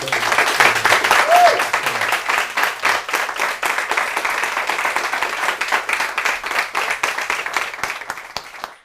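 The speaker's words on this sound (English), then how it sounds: "Can we get another round of applause for you?" Sustained applause from a crowd, dense clapping that starts strong and gradually tapers off toward the end.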